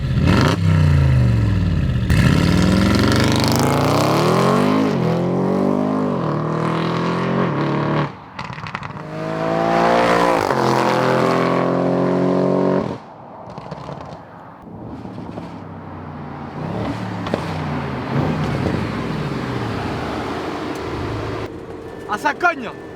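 A 700 hp Audi RS6 drifting roars loudly up and down through revs, with sharp exhaust crackles and pops, tyre and engine noise shifting close by, and excited voices in French heard briefly.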